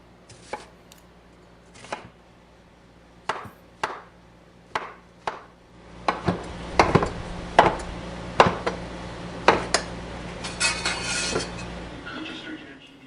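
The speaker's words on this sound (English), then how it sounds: "Use half, do a rough chop, not a fine chop," Knife strikes on a cutting board as a sweet, large vegetable gets a rough chop: a few spaced, crisp knocks first, then quicker, denser chopping that builds to a steady rapid rhythm, close and clear, with light kitchen rustle at the end.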